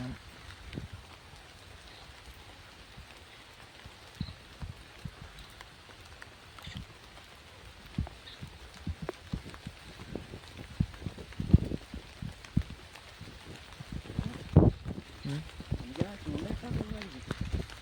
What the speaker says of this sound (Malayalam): മഴ ആയതുകൊണ്ട്